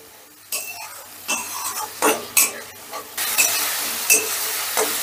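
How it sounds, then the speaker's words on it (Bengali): Onion, ginger and garlic paste with a splash of water is stir-fried in a pan, giving a soft sizzle broken by repeated spatula scrapes and clanks against the metal, near and uneven in rhythm. "এবারে পেঁয়াজ আদা রসুনটা বেশ ভালো করে কষে নেব"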